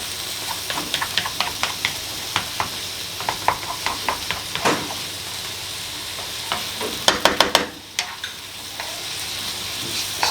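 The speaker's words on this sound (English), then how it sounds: "Stirring it around, make sure it all gets some even heat distribution for all cooks." A bacon, mushroom and cheese omelette fries in a pan, a steady sizzle broken by repeated scraping stirs, several sharper clatters of the utensil near the end, with no talking.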